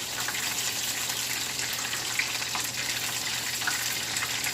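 Steady, dense sizzling and crackling of breaded chicken strips deep frying in hot oil, continuous and fairly close, with no voices.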